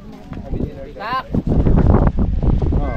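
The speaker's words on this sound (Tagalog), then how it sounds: "Lakas na hangin." Loud, gusty wind at a beach in Pagudpud, Ilocos Norte, buffets the microphone with a constant roar, while people talk over it close by.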